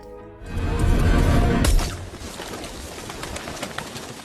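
Pigeons being fed outdoors flutter and coo amid a loud whooshing burst of wings that cuts off abruptly, followed by scattered light clicks and bird sounds over street ambience.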